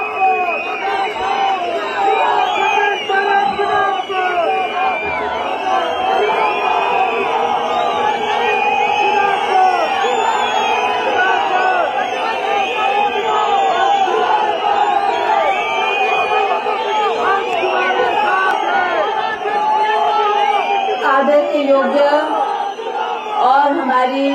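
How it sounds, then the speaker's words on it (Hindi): Large crowd at a statue unveiling ceremony for Virbhadra Singh, cheering and shouting in a dense, loud, continuous roar with whoops throughout, welcoming Pratibha Singh to the stage. "जोरदार तालियों से स्वागत करें श्रीमती प्रतिभा सिंह जी"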